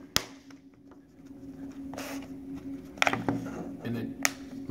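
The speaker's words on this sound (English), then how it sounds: "you always want to make sure you hear those clicking" A Merit waterproof case for an iPhone 6 Plus snaps shut with a few sharp, separate plastic clicks spread over several seconds in a quiet room, fairly close and soft.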